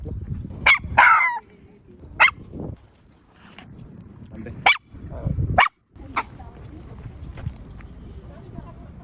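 A dog being trained on a leash gives several sharp, loud barks in irregular bursts, while a person talks between them.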